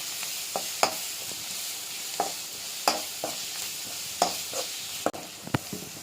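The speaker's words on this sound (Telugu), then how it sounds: "సాల్ట్ వేసుకుందాం, త్వరగా వేగుతాయి ఎర్రగడ్డలు" Onions with ginger, garlic and pepper paste frying in a pan as prawns are prepared, a steady low sizzle broken by sharp scraping stirs and spoon knocks spaced every second or so.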